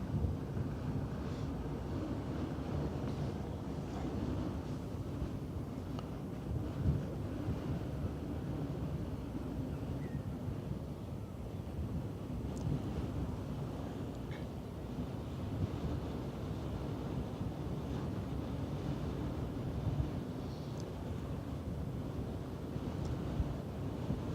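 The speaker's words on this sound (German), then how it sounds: "Ist ein bisschen windig, wie ihr vielleicht hört" Steady, loud wind buffeting the microphone on a ship entering the port of Hamburg, a constant low rumble with no pauses, as if moving fast over open water.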